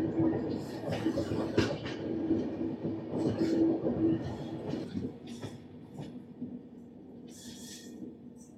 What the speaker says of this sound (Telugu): మనకు చూసుకుంటే అక్కడ గూడ్స్ ట్రైన్ వెళ్ళిపోతుంది చూసారా